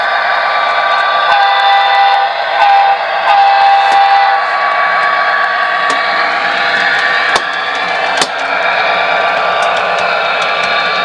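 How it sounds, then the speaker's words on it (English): A passenger train on the Michigan Southern line rolls through past a rural hay field, its steady rumble and steel screeching continuous and fairly loud, with short whistle-like squeals rising over it. "when the train comes through,"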